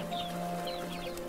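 A hen clucks in the All of You puzzle video game, a few soft, brief clucks over a steady electronic background hum, faint and without speech.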